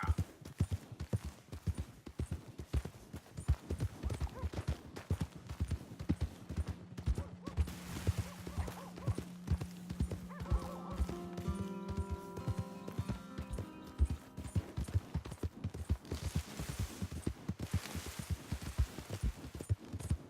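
Steady clip-clop of horse hooves at a walking pace in the video game Red Dead Redemption 2, with a brief whinny partway through and faint ambient noise behind.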